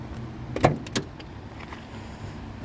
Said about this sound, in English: Doors open and close great, nice and solid.